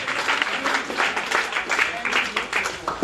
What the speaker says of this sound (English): somebody clap your hands and say, in the name of Jesus